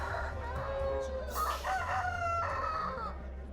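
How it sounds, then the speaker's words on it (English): Two fighting roosters crow and squawk in agitated bursts, with loud screeching calls overlapping against a low rumbling background. "watching two roosters rip each other to shreds"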